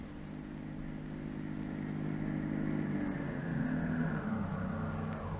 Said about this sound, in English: they hear an automobile start from the ranch.